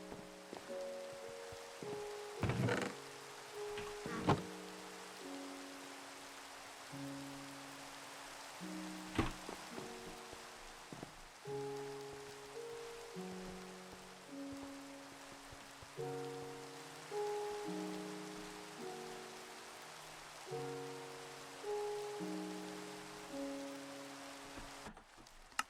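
Minecraft rain falling in a Skyblock game, a soft steady patter kept well under a looping melodic soundtrack of sustained notes, with a few sharp clicks and taps along the way and no talk.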